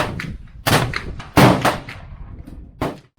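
Three sharp shots from a KelTec Sub2000 rifle fitted with a recoil buffer, each a loud, crisp crack with a short ringing decay, spaced about a second apart at an outdoor range.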